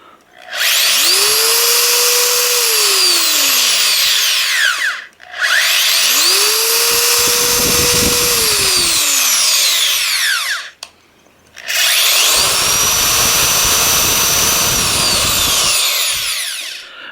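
A 3/8-inch right angle electric drill runs in reverse in three loud bursts, each winding up, holding a steady high whine and spinning down, with short pauses between them.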